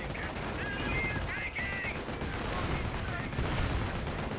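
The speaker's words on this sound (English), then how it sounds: "Ken Grant taking some fire from the Vickers emplacement" Vickers machine gun emplacement firing in a World War II strategy video game, a dense continuous rattle of gunfire under the battle din throughout.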